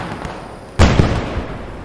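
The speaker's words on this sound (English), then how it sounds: "I know where the explosions are." A sudden loud explosion cracks and rumbles out during a Squad 44 night battle in a video game, with a quieter follow-up thump after a steady low background.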